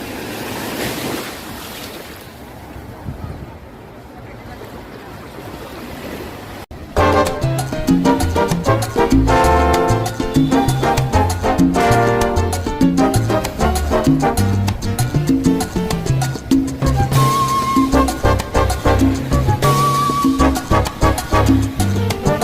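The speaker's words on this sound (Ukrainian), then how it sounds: "Хочу, щоб ви відчули, яка атмосфера на пляжу." Sea waves wash onto a sandy beach at Salerno, Italy, heard as a loud, continuous surf and wind roar for several seconds before loud beach music abruptly takes over and dominates.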